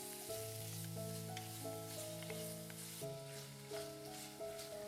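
Beef and garlic stir-frying in a pan give a steady sizzle that runs under louder music.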